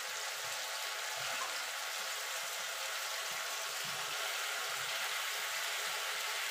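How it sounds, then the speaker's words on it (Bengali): A ginger-garlic spice paste thinned with a little water fries in a pan, giving a constant broadband sizzle at moderate level with faint low scraping or stirring underneath. "এবার মশলাটাকে কষিয়ে নেবো যতক্ষণ আদা রসুনের গন্ধটা না যাচ্ছে"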